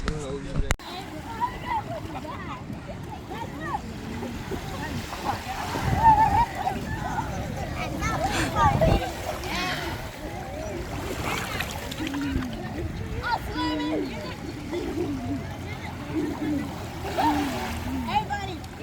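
Water splashing and sloshing at the beach, with intermittent louder splashes over a background of waves, mixed with voices talking and calling out nearby.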